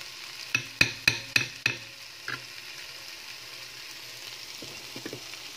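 Red beans in a pan are stirred with a run of five sharp, evenly spaced clacks of the utensil against the pan, followed by a soft sizzle and a few faint scrapes near the end.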